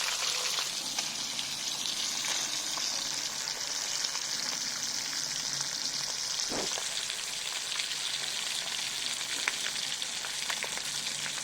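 Fish pieces for a taro and elephant apple fish curry fry in a pan with a steady, close sizzle and crackle, with one soft knock partway through and no voices.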